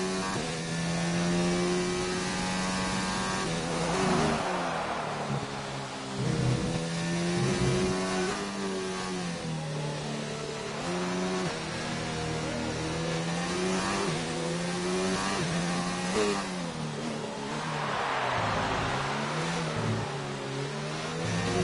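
Formula 1 race cars racing in a video game at the Hungarian Grand Prix: a constant high-revving engine scream with pitch rising and dropping through gear changes, cars passing close, steady and loud throughout.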